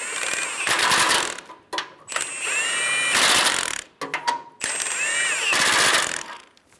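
A ratchet tool tightens the bumper impact bar bolts on a 2007-2011 Toyota Camry in three loud rattling bursts, each with a rising whir, broken by short pauses.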